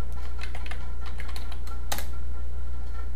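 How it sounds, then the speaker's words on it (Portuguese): Someone types a password on a computer keyboard while logging into the Debian Linux GNOME interface: a quick, irregular run of crisp key taps over a steady low hum, with one sharper, louder keystroke near the end. "então eu tenho que digitar aqui"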